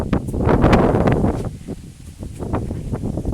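Gusty wind buffets the microphone up close, a rough low rumble that swells and eases with rustling bursts.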